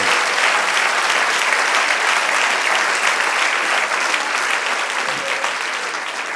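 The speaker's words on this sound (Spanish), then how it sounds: "Dale un aplauso al Señor." Church congregation applauding at a sermon, a dense, steady wash of many hands clapping throughout, loud and continuous with no break, easing off only slightly near the end.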